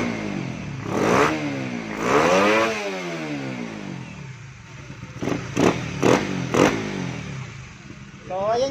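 A Supra GTR 150 Fi motorcycle with an upgraded throttle body and TPS, near stock tune, revs up twice in rising and falling sweeps, followed by lighter clattering engine blips at close range.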